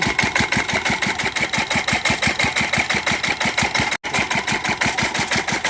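A vehicle engine running hot with no radiator fan fitted, idling in a fast, steady, evenly pulsing rhythm, loud and close, with a single momentary dropout partway through.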